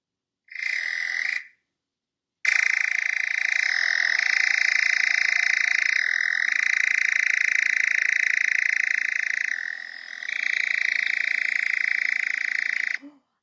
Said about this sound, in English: That's the sound of a nightjar.